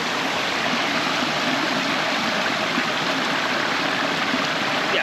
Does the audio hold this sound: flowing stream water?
yes